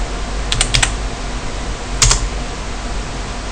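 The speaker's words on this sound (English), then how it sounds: "If you delete this with backspace and type php" Typing on a computer keyboard: a quick run of four key clicks, then a short pause and a tighter double tap, close and crisp over steady background hiss.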